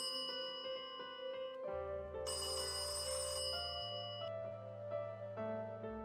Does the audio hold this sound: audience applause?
no